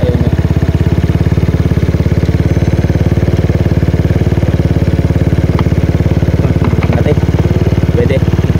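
A restored motorcycle engine runs loud and close, its rapid regular firing pulses steady throughout as the revs are held up, with a voice speaking faintly over the engine.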